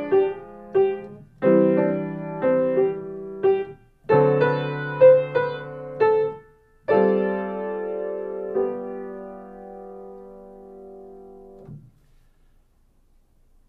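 Piano plays measures 5 through 8 of Cakewalk with both hands together, in clear, bouncy chords and melody notes in a syncopated rhythm, closing on a held chord that rings and fades to silence.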